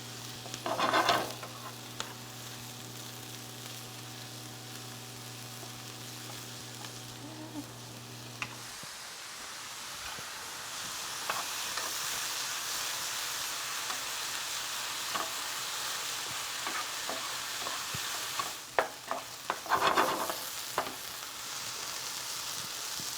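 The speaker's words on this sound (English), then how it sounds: "And I'm stirring pretty often just so everything cooks nice and evenly." Mushrooms, spices and garlic fry in a pan with a soft, steady sizzle while a utensil stirs and scrapes, with louder bursts of stirring near the start and near the end, and a low hum that stops partway through.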